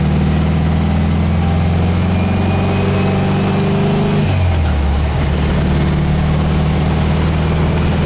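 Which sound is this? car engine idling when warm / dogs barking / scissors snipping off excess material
car engine idling when warm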